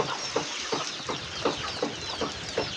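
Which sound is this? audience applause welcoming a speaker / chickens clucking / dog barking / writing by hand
chickens clucking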